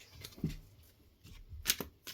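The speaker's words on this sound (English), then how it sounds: "Just going to shuffle it a few times and let's see what the cards have in store for you." Tarot deck shuffled by hand in a few short bursts of papery riffling and soft card slaps, close and fairly quiet, with no talking.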